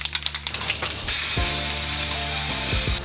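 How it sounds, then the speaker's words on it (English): Anti-rust primer sprays from an aerosol can onto a BMX frame: a few rattling shakes, then a steady close hiss broken by short pauses between bursts. "now I'm going to hit it with the first coat of the anti-rust primer"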